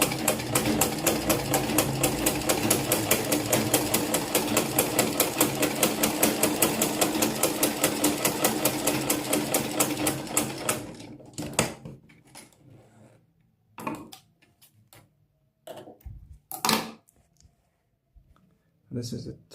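Butterfly sewing machine stitching steadily, a fast regular mechanical chatter for about ten seconds before stopping, followed by scattered handling clicks and knocks.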